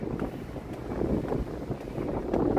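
Wind gusting along the Chicago River in downtown Chicago, a steady, low, broadband rush with no voices, swelling slightly toward the end.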